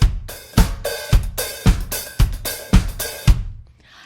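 A disco drum beat with sixteenth-note hi-hat, open hi-hat accents and a backbeat snare on beats two and four over steady kick, played alone in a loud, tight four-second groove that ends with a decay.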